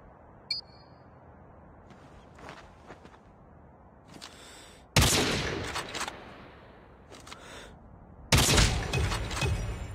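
Video game gunfire rings out in a quiet match: a few faint distant pops, then two loud, sharp bursts of shots close by, separated by a short lull.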